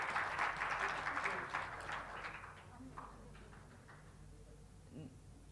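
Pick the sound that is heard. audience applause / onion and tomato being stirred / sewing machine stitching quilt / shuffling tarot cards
audience applause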